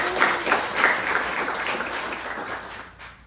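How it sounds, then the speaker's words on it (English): Audience at a mayoral forum in a clubhouse breaks into sustained applause, dense clapping that stays steady and fairly loud before tapering off at the end. "You should give yourselves a round of applause."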